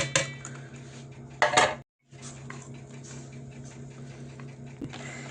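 Dough for sausage rolls, made with pressed yeast and milk, being mixed in a bowl: clinking of utensil against the bowl and soft scraping, with a louder clatter burst midway and a brief silent gap.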